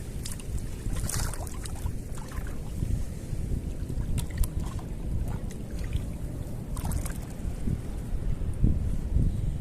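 Strong wind buffets the microphone while out on the water in a small fishing boat near a breakwater, a steady low roar with gusty rumble and occasional sharper splashes, no voices.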